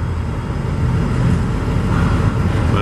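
A long freight train pulled by several engines rolls past close by, a loud steady rumble and roar that holds without a break from start to end.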